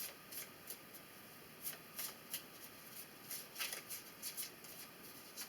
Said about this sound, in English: So I'm looking at these cards as I'm shuffling here